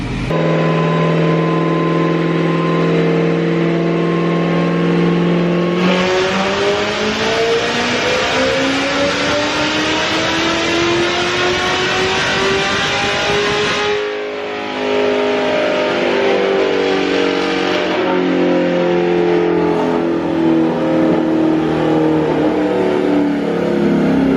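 A Z06 Corvette engine with bolt-on modifications, running E85, revs very loudly on a dyno, pitch climbing steadily, briefly cutting out, then roaring up again close and powerful.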